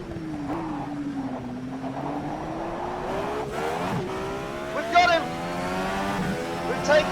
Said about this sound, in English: Oh, just feel those tyres scrubbing.